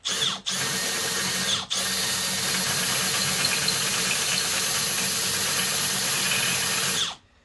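A loud power drill with a worn bit drills into metal close by, briefly stopping twice near the start, then whines steadily for several seconds before cutting off.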